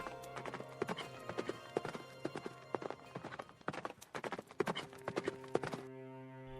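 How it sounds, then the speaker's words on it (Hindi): Cartoon horse hooves clip-clopping as a prince rides out of a palace toward the forest, a quick steady run of crisp hoofbeats that stops near the end. "राजकुमार चंद्रकांत बगैर देर किए हुए महल के बाहर अपने घोड़े पर बैठकर सीधा जंगल की ओर चल दिया।"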